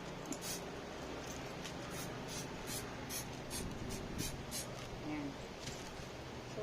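Waterproofing spray applied to the strap of a Louis Vuitton Speedy 25 Bandouliere bag, heard as a series of short, close hissing bursts in a steady rhythm over a low background rumble.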